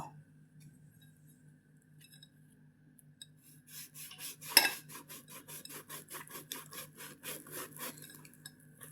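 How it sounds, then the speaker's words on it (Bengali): Knife cutting through a fried egg pitha (dim sundori pitha), a run of quiet, rapid rasping and scraping strokes in a steady rhythm that starts after a near-silent opening, with a hum in the background. "এখন আমি কেটে নেব।"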